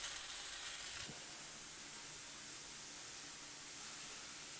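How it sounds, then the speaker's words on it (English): Soft, steady sizzling hiss of halloumi cheese frying on a hot grill, faint and continuous with a slight crackle near the start. "Sizzling hot grilled cheese."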